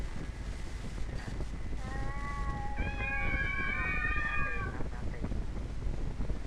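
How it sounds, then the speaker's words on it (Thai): Several cats meow in the video game Ib, their overlapping calls rising over a steady background hum for a few seconds at moderate loudness. "โอ้ยแมวเยอะแยะเลย"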